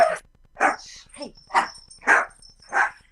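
A dog in a room during a live stream barks about six times in a steady rhythm, close and loud, each yelp sharp and separate with short pauses.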